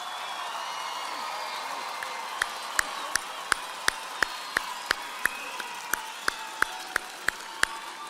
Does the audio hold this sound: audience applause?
yes